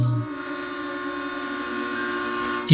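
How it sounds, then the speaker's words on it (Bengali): A long, steady train horn blares, a sustained droning tone holding for a few seconds before cutting off abruptly. "হঠাৎ ট্রেনের হর্ন বেজে উঠল"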